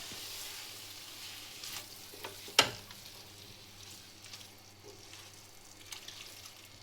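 Homemade wheat-flour noodles with pepper powder being mixed in a pan give a faint, steady sizzle with soft stirring scrapes and one sharp clink of a utensil, heard close and alone.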